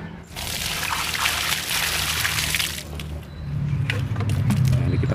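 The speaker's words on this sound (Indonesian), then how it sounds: "Nah, ini kita siram." Water poured onto a kimeng bonsai from a watering can, a steady trickling splash running throughout at moderate level, with a brief pause and then heavier flow toward the end.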